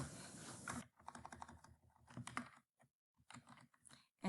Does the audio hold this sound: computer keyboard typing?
yes